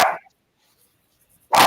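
A dog gives two short, loud barks close by, separated by a silent pause of more than a second, with no talk around them.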